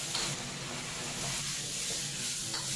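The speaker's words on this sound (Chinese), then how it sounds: "把它翻炒均匀" Beef strips stir-fried in a wok with pickled chili, wild chili, ginger, garlic and celery, giving a steady, close sizzle with scraping and stirring, no talk.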